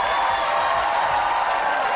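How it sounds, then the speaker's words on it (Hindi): A studio audience claps on request at a comedy show, a steady wash of applause lasting throughout at moderate loudness with no speech over it. "जोर से तालियां बजाएं भाई"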